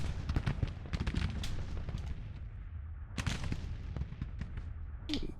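Cannon and artillery fire in the Grand Tactician: The Civil War video game, a rapid series of sharp booms and cracks at varying distances, with a few louder close blasts standing out among distant volleys.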